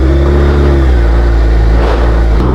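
Suzuki Hayabusa motorcycle revving hard while being ridden on an expressway, a loud close engine roar whose pitch shifts as the revs change, constant and alone without speech.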